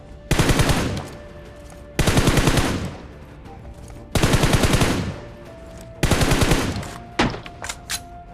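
Burst gunfire from a mobile battle royale game comes as four loud, sharp rapid-fire bursts about two seconds apart, each a rattling string of shots, followed by a few scattered single shots.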